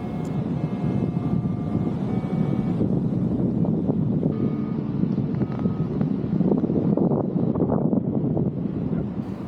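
Strong wind roars and buffets steadily throughout a paraglider landing in open fields, with constant low rumbling gusts and flapping near the microphone and no speech.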